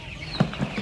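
Colour bird broiler chickens on a farm give a few short, soft clucks, one slightly louder peak standing out over a steady low background hum.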